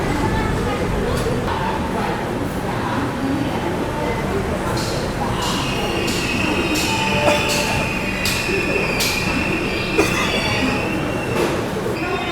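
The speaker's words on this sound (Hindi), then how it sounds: "डॉट ऑन टाइम ट्रेन आ चुकी है भाई CSMT रेलवे स्टेशन पर" Rajdhani Express train pulling into Chhatrapati Shivaji Maharaj Terminus, Mumbai, with a steady rumble of rolling cars and a long high brake squeal, under station ambience.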